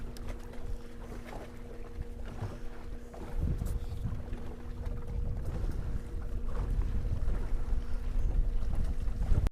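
A 70-pound-thrust Minn Kota trolling motor running on a Ranger RT 178 boat on Kerr Lake, a low steady whir with two faint tones beneath wind buffeting and water splash that grow louder toward the end.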